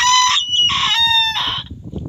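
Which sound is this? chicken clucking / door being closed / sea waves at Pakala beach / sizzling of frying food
chicken clucking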